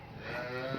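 A Cholistani Friesian cross cow gives a single short, deep moo nearby, loud and clear, without any talking.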